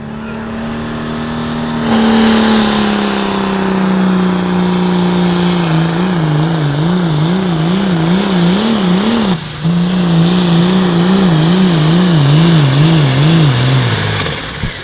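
Light limited pro stock pulling tractor roaring loudly at an outlaw pulling event in Madison, South Dakota, a sustained high-revving engine that wavers rhythmically as it hops, with a brief dip midway before falling off at the end.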